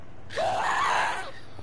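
A Minecraft mob lets out one loud, shrill scream lasting about a second. It rises sharply, holds, then fades, and no voices are heard over it.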